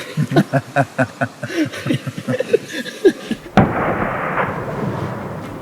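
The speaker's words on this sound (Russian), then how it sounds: "Произошел выстрел, один, второй." Several sharp, sudden rifle shots ring out in the Caucasus mountains during a tur hunt, the final shot followed by a long rumbling echo fading into the distance.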